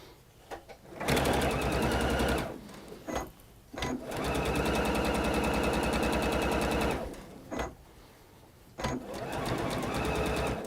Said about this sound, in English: I'm going to sew this together, and you watch